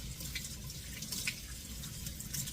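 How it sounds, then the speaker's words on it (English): Okra being washed under warm running water, a steady close hiss of flowing liquid with faint drips and splashes throughout, no talking. "I'm washing them with some warm water."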